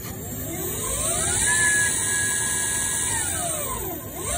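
A Yamaha E01 electric scooter concept winds up under throttle, a steady rising electric whine that climbs, holds at a high pitch, then drops away, heard close with no talk over it.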